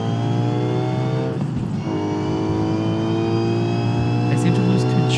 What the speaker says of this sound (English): let's just enjoy the noise of some engine right now.